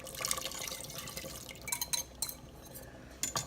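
Liquid cornstarch mixture poured into a Cajun-style beef stew in an Instant Pot, giving a soft, steady trickle with small splashes and drips, close and fairly quiet, with no talking.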